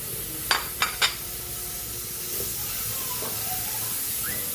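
Ginger, garlic and onion in a pan for paksiw na bangus give a steady hiss and sizzle, with three quick clacks of a utensil early on, close by and without talk.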